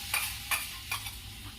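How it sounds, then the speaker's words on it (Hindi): Hot oil with tempering spices sizzles steadily in a pan for spinach kadhi while a spoon clinks and scrapes three times, close and clear. "दोस्तों अब इसमें मैं तड़का लगा दूंगी।"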